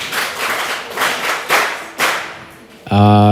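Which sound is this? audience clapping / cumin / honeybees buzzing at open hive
audience clapping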